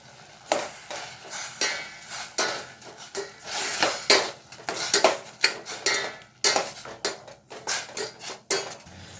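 Tomato thokku with rock salt and tamarind being sautéed in a pan: a spoon scrapes and clatters against the metal in irregular bursts, and a soft sizzle sits underneath, with no talking.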